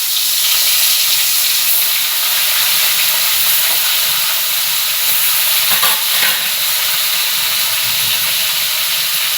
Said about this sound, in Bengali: চলুন মাছটা ভাজা হোক।